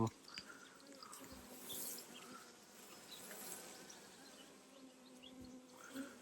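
Honeybees drone in a low, steady, faint hum while a hive frame is pulled for a late-season inspection, with a few brief louder swells near the start and end.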